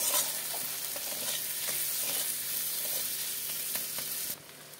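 Spices are stir-fried in a pan for a golden prawn dish, giving a steady, close sizzle with scraping stirs throughout that cuts off into quieter frying near the end.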